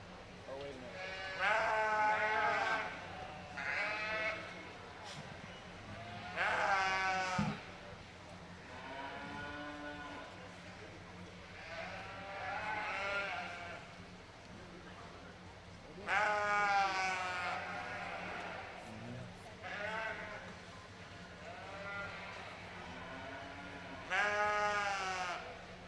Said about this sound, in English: Next up, we have Class 7, Hampshire ewes, born in February.